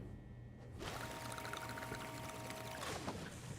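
Water pouring steadily in the video game Crime Scene Cleaner, a continuous close splashing stream with a faint electronic hum underneath, running without talk for a few seconds.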